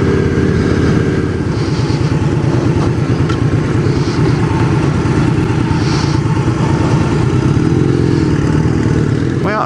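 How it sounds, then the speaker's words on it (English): A 1987 Honda Rebel 250 motorcycle rides slowly around a residential neighborhood, its steady mid-pitched engine running continuously and close by for the whole stretch with only slight throttle changes. "Barney's running great."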